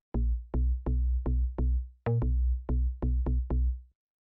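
A deep synthesized bass in a classic house track plays a choppy line of about ten short, punchy notes with brief gaps, loud and alone with no voices.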